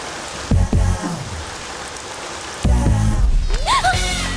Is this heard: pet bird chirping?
no